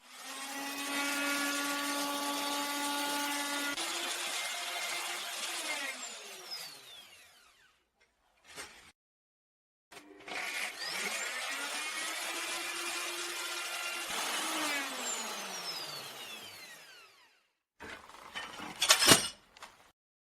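A power tool cuts the groove inside a large wooden whiskey barrel with two long, loud whining runs that rise and then fall in pitch as the motor spins down, separated by short knocks and clinks.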